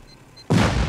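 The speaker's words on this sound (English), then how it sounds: "Explosions!" A sudden loud boom from an explosion during a video game base raid, bursting in after a brief quiet moment and filling the rest of the short clip with a heavy, rumbling blast.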